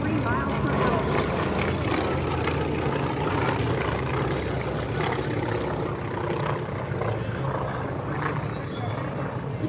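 A T-28 Trojan's big radial piston engine, the same type fitted to the B-17, drones steadily and loudly as the aircraft flies at the EAA AirVenture 2025 air show, with a commentator talking over it.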